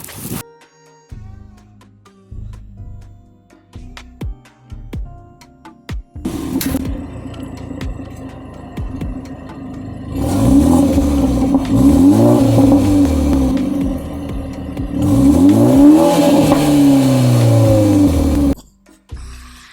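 A BMW G20 3 Series cranks and fires up with a loud rise, settles into idle, then delivers two strong exhaust revs that swell and fall before the engine shuts off.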